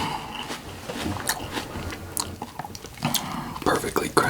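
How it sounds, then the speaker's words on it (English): Crunchy bites into a fresh Fuji apple, followed by close, moist chewing with sharp crisp snaps, recorded up close in a quiet whispery setting. "So this Fuji apple I'm gonna try next."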